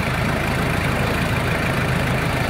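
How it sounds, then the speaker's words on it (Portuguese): A car engine, freshly repaired after a cylinder head rebuild, idles steadily while warming up, a loud, even low rumble with constant chugging and no variation. "Estamos aqui agora dando essa partida para que ele aqueça"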